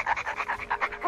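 A small cartoon dog pants in quick, steady rhythmic breaths, about ten huffs in a second, close and clear with no talking over it.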